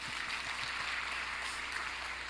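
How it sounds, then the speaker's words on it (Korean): A church congregation at an evening blessing revival service breaks into steady, even applause, a soft, dense patter of many hands heard at a distance with no talking over it. "박수를 한번 쳐, 박수 한번."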